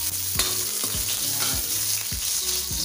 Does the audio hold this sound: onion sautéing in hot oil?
yes